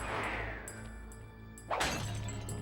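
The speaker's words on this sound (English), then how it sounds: "I break it, and then you hear the smashing sound a second later" Something shatters and smashes in the Sly 3: Honor Among Thieves video game, one sudden loud crash over a humming game background.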